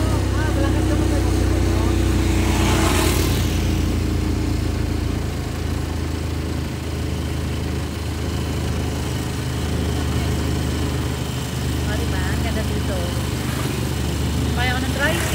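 A motorized tricycle engine drones steadily and loudly throughout a ride through a hilly rural town, with a constant low rumble and passengers' voices over it.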